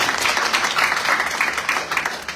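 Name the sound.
congregation applauding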